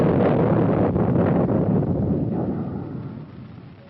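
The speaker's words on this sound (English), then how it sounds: "the U.S. Navy test-fired the ship-to-air Talos guided missile" U.S. Navy Talos ship-to-air guided missile test firing, a loud, broad rumbling roar that fades away steadily over a few seconds, with no talking.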